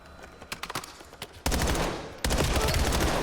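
Rapid gunfire in a professional Call of Duty match, scattered bursts followed by two loud, dense volleys of automatic fire close up.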